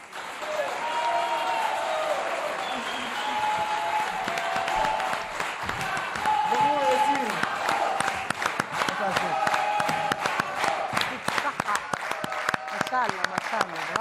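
An audience applauds a children's choir, Sidi Sami Choir, in steady crowd clapping that builds and grows denser toward the end, with someone speaking over the first part.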